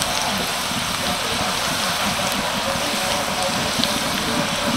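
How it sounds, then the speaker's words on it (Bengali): Thin, rolled nimki, many at once, fry in hot oil with a dense, continuous crackling hiss like heavy rain, steady and close for the whole stretch. "এই নিমকিগুলো ভাজতে কিন্তু বেশি সময় লাগে না"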